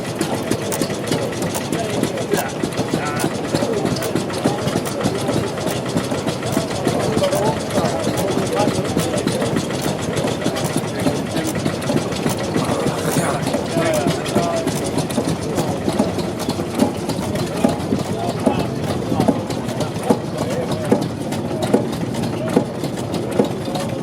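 A Deutz E12 stationary engine running on coal gas, a steady, rhythmic chugging that continues at an even pace throughout.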